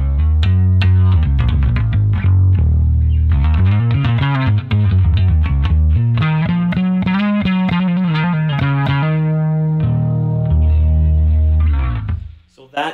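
Rickenbacker bass on the neck pickup, run through chorus and a light compressor, plays a melodic line of warm, close, shimmering notes with a slightly distorted edge for several seconds before fading.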